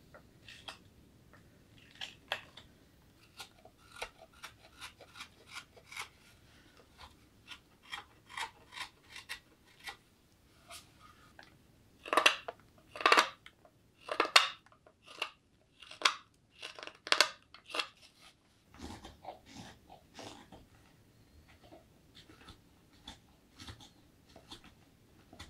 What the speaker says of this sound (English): A little teeny knife against a big piece of wood